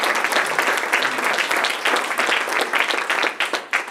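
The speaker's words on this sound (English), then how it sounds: "One more round of applause for Lucas" Audience applause after a startup pitch at a health-tech cohort showcase, a steady burst of many hands clapping that stays full and even for several seconds, with no one speaking over it.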